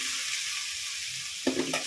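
Masala for chicken biryani (nati chicken) stirred and frying in a pan, a steady loud sizzle throughout with a few sharper scraping stirs near the end, no voices.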